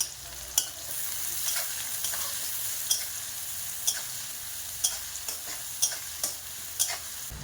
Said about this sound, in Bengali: কালো জিরে ফোড়ন দেব, পেঁয়াজ কুচি দেব, কাঁচা লঙ্কা দেব, কিছুক্ষণ দরমারা করে ভেজে নেব।